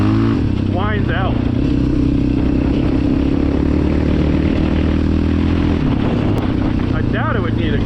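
A Yamaha Raptor 700R ATV engine runs loud and close at full throttle, holding a dense, rough drone throughout. A voice talks over it briefly near the start and again at the end.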